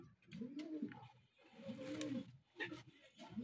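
Deep, rolling coos from a racing homer pigeon repeat in three or four phrases, close to the microphone, with faint background noise between them.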